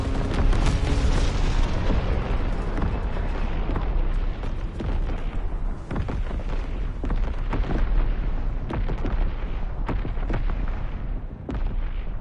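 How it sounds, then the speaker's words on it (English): Heavy artillery shells blast and boom in a Call of Duty battle, a dense, continuous barrage of loud, close explosions and rumbling impacts with sharp cracks scattered throughout, no talk over it. "Incoming enemy artillery! Get to cover!"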